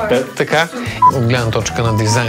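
A mobile phone sounds a brief electronic ring tone, one short beep under continuous close talking inside a panel-block apartment.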